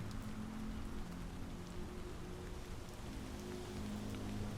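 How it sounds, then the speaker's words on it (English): Steady rainfall in the zombie game The Walking Dead: Saints and Sinners, a soft, constant hiss of drops on surfaces under a low hum, quiet and unbroken with no voices. "And it's a rainy day."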